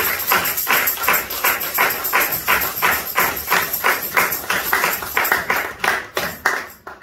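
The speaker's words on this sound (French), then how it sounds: "Nous acclamons très très très fort la parole de Dieu." A church congregation applauding loudly, dense rhythmic clapping from many hands that keeps a steady beat and thins out toward the end.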